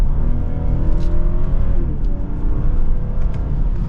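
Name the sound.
2023 BMW 540i engine revving on downshift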